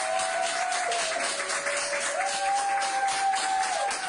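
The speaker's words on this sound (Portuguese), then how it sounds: "Os aplausos são para o engenheiro de telecomunicações Humberto Rezende" Hospital staff in Brazil applaud a 50-year-old telecommunications engineer discharged after Covid-19, a close, continuous burst of clapping lasting about four seconds with a steady electronic tone running beneath it.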